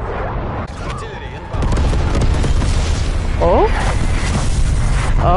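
Artillery strikes land in the video game Call of Duty: Black Ops Cold War, a loud sustained rumble of heavy booms and blasts with brief game voice chatter over it.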